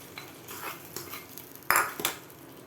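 Ven pongal with cashews being stirred in a pot: a few scraping, clinking spoon strokes against metal, close and fairly loud, with a sharper knock near the end and no talk.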